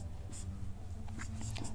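Pen writing on paper during a Class 10 maths proof, soft continuous scratching strokes with brief brighter scrapes near the start and toward the end, close but quiet over a low steady hum.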